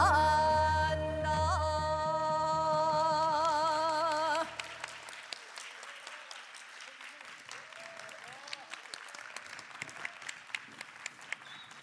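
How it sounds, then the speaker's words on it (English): Audience applause breaks out after a live performance of a Korean folk boat song at a regional symposium; the music's closing tones fade at about four seconds, giving way to a steady, dense crowd clapping that continues to the end. "please give a big round of applause for today's performance"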